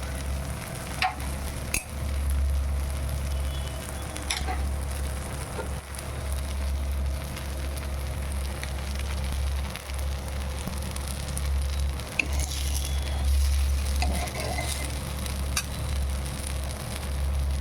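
Food frying in ghee, cooking until crisp, gives a steady low sizzle with scattered stirring clicks throughout, no talk.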